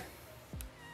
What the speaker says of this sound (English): This cat is gonna have a feast today.